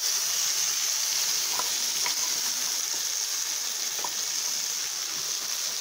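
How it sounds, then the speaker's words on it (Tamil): Mustard seeds and asafoetida sizzle in hot oil over a low flame, giving a steady, fairly quiet hiss with scattered small pops and crackles. "கடுகு பொரியும் போது பெருங்காயத்தூள் ஆட் பண்ணிக்கிறேன்"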